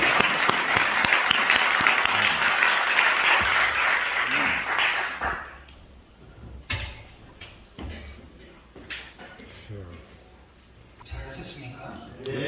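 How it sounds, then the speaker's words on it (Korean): A church seminar audience claps to welcome a pastor. The dense applause lasts about five seconds, then fades to scattered claps, shuffling and small knocks. "박수로 환영하겠습니다."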